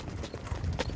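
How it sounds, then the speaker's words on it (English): Racehorse hooves clip-clopping on a training track, a steady run of close, muffled thuds over a low rumble of outdoor noise, with no talk. "So there's Sunshine Beach, McCardle, a He's Watching, and 2 We Will See's on the track right now"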